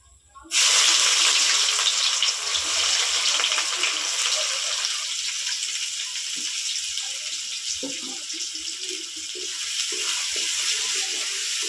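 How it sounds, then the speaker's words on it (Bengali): Chopped onion dropped into hot oil with whole spices and sugar for a mutton curry, a loud sudden sizzle that settles into a steady hiss with faint clinks, no talking. "ফোড়নটা ভাজা হয়ে গেছে, এবার দেবো পেঁয়াজ কুচি"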